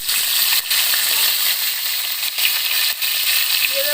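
Potatoes frying in hot oil in a pan, a dense continuous sizzle close up with a few brief dips, no talking.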